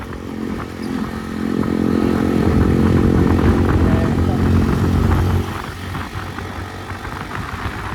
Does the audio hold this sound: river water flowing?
no